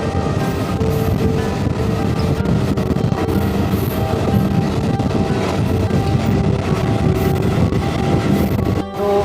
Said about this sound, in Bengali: ট্রেনটা এই দমদম স্টেশন থেকে ছেড়ে দিল